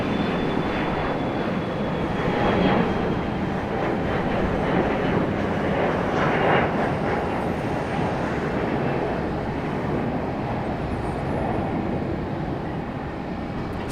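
A United airliner departs Raleigh-Durham airport at sunrise, its engine noise a broad, steady roar from moderate distance that holds for the whole stretch with no voices over it.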